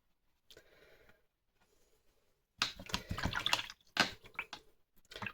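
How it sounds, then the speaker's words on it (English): A watercolor brush swished and rinsed in a pot of clean water, close and soft, in a few short splashy bursts after a faint lead-in. "Rinsing my brush off, clean water."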